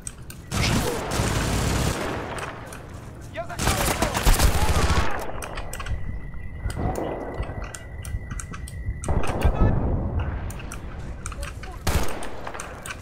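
Gunfire in the video game Battlefield 2 rattles in loud, sustained bursts of automatic fire with short breaks, while voices talk over the battle.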